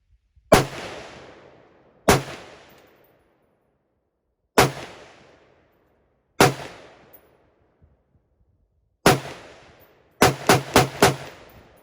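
Gunshots from a Colt M4A1 SOCOM URG rifle, fired outdoors as loud, sharp single shots spaced a couple of seconds apart, then a quick string of four rapid shots at the end, each followed by a short decaying echo.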